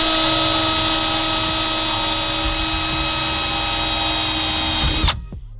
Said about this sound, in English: I'm just going to drill it in.